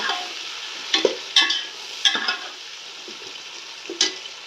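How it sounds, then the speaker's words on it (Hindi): Peas and tomatoes fry in oil for matar egg pulao, a bright, fairly loud sizzle broken by a few quick spoon stirs and scrapes against the pot, with no speech. "2 से 3 मिनट के लिए मटरों को ना ऑयल में अच्छे से फ्राई कर लें"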